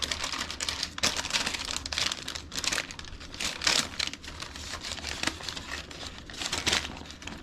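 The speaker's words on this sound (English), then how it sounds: "Parchment paper is wonderful." Parchment paper handled while making date bars in a kitchen, crinkling and rustling in irregular bursts close by, with no talk over it.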